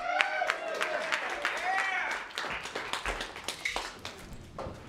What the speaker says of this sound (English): give a big round of applause for Luke Capasso